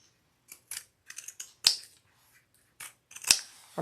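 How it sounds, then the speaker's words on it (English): Kai pinking shears snip through fabric in a series of short, crisp cuts, single and paired clicks spaced irregularly, close and clear with no talking. "I have Kai pinking shears"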